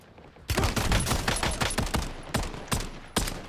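Video game gunfire erupts in a loud, close, sustained burst of rapid shots, then eases into a few separate single reports.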